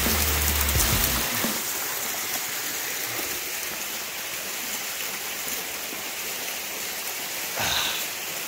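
Water streams steadily from a trailside fountain on the Way of Saint Francis pilgrimage route between Piediluco and Spoleto, a close, constant rushing splash. Brief handling noises come at the start and near the end.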